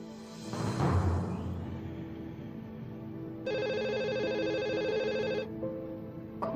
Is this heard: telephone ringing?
yes